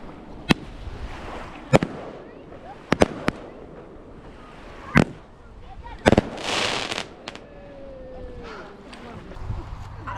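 Firework mortars burst at Pyramid Lake near Reno, Nevada, as sharp, loud booms at uneven intervals, one of them followed by a crackling shower. People talk between the blasts.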